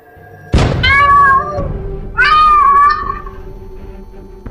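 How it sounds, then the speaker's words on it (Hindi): A black cat meows twice, close and loud, a sharp thump before the first cry and a second longer meow a moment later, over a faint steady hum. "ये काली बिल्ली रास्ता काट गई"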